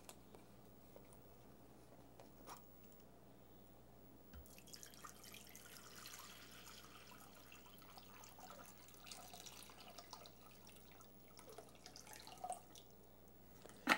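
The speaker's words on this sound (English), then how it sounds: "have a friend pour in some water until you can see it" Water is poured into a bowl with a penny at the bottom: a faint, soft trickle that builds after a few quiet seconds with scattered light drips, close and gentle.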